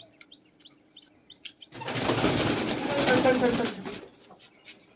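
Pet pigeons in their loft give faint chirps before a sudden loud burst of wing flapping that lasts a couple of seconds, then quiets again.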